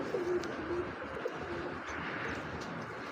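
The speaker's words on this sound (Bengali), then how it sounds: "এই দেখেন দেখছেন এটা কিন্তু মাদি কবুতর" A large female pigeon gives soft, low coos, a few short calls in a quiet setting with faint background hum.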